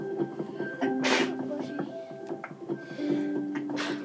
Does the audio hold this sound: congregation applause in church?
no